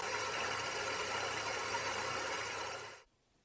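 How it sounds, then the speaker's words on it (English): A ball bearing electric motor runs at a steady speed with a loud, even hum and whir for about three seconds, then cuts off abruptly into near silence. "the motor gradually begins to reach a steady speed."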